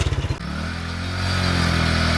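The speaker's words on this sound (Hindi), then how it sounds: "बाइक आगे ही नहीं बढ़ रही है" Motorcycle engine revving hard on a flooded, muddy road, the rear tyre slipping in the mud; a few quick throttle blips at the start, then a steady loud drone close by.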